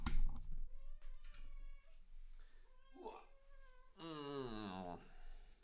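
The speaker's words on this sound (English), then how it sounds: "We have to pet the cat." A cat meows repeatedly while being petted, several drawn-out tonal meows close to the microphone, the last one long and loud, with a person speaking between them.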